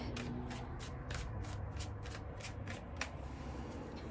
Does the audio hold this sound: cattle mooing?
no